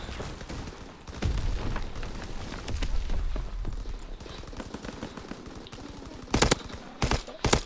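Weapon fire in Call of Duty rattles in rapid automatic bursts against a noisy battlefield background, with a few louder sharp shots close by near the end.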